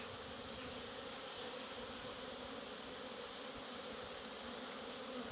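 A continuous faint hum of honeybees swarming out of the hive, a steady drone of many wings with no other sounds on top.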